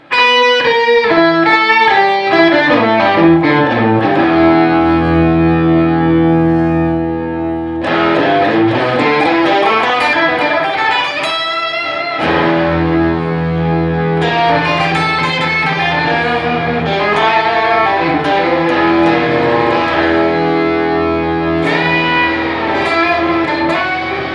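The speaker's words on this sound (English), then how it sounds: "So I've got one octave up and one octave down." Live performance effects rig with an octave pitch effect stacking one octave up and one octave down, producing thick, layered, distorted sustained tones that ring out loudly and continuously in shifting chords with no talking.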